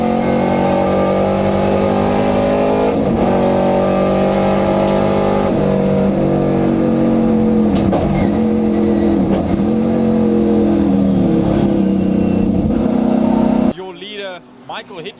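Race cars, among them a Porsche, a Capri and a Mustang, roar past on a circuit, their engines loud and continuous with rising and falling revs as they accelerate by. A commentator talks over the engines until they cut off abruptly near the end.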